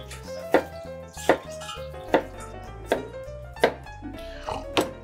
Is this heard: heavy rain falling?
no